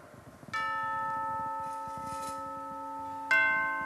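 Church bells toll in a stage play of Don Juan Tenorio by a local theatre group: two struck bell notes, each leaving a long, ringing, slowly fading hum, with faint low rustling before the first strike.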